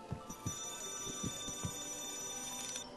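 An alarm clock rings in Scribblenauts Unlimited, a loud, repeated electronic ringing with a steady high tone and regular pulses, heard alone without talk.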